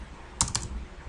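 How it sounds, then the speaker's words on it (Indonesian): Two quick keystrokes on a computer keyboard, pressing Ctrl and C together in Microsoft Word 2007, a pair of close, crisp clicks over faint room noise. "tekan tombol Ctrl dan huruf C secara bersamaan pada keyboard Anda untuk mengcopy"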